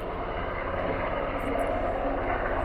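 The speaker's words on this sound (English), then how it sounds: "We've got Coast Guard helicopter hovering just outside the marina" Steady droning rotor and engine noise from a Coast Guard helicopter hovering outside a marina, constant and fairly distant, with no break throughout.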